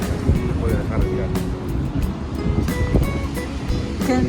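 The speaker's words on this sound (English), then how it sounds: "what happened to the waves, Natalie?" Ocean waves wash onto a beach during a family day out, a steady rushing surf with wind buffeting the microphone and occasional voices nearby.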